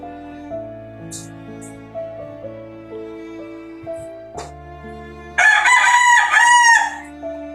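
A rooster crows once, loud and near, after several seconds of steady background hum with soft clucks.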